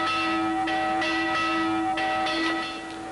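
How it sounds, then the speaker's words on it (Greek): A church bell rings loudly with a long, sustained metallic hum, struck again about every second, its tone lingering between strikes. "Ακού, θα κάει καμπάνα."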